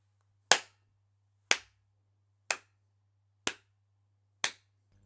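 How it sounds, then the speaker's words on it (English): A person claps five times in an even rhythm about one second apart, each sharp clap ringing briefly against a quiet, low hum. "So here's one of you clapping."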